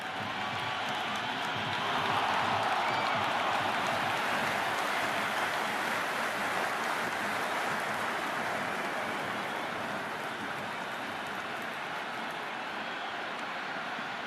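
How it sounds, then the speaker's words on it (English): An enthusiastic cricket crowd in the stands during an RCB vs GT qualifier makes a dense, steady buzz that swells slightly early on and then settles into a continuous wash of distant murmur. "It's the most enthusiastic crowd you could ever see right now. There's a buzz, a real buzz coming from the stands."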